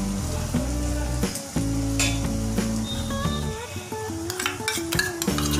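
Tomato, green chilli and onion fry in a pan with a continuous loud sizzle, joined by scraping and clinking as a utensil stirs against the metal.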